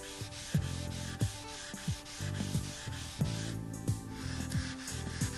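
Rhythmic back-and-forth rubbing on stainless steel with an abrasive to remove scratches, each stroke a close, scraping swipe repeating at a steady pace without speech.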